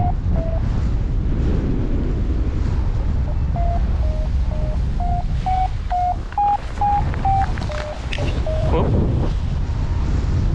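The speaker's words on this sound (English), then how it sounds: "it's got quite windy on the hill" Steady wind on a hilltop buffets the microphone in a constant low roar, with a faint series of electronic beeps rising and falling over it.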